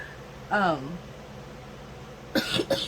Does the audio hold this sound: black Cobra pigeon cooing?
no